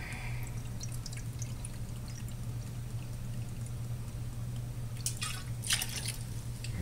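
Vodka and Kahlua pour steadily into a measuring cup for a Black Russian cake, a soft continuous liquid trickle with a few brighter splashes near the end, heard alone without talk.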